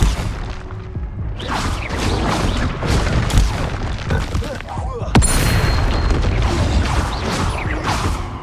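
Confringo fire spells exploding in the Hogwarts Legacy video game, repeated booming blasts and crashes amid noisy combat, with a sharp crack midway and a voice heard over the action.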